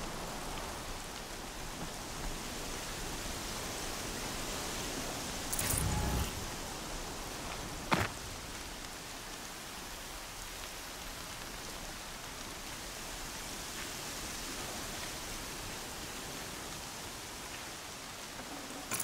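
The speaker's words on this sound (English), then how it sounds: "Here comes the rain." Rain falls steadily in the video game Horizon Zero Dawn, a soft, continuous hiss of drops with a brief louder burst and a sharp crack partway through.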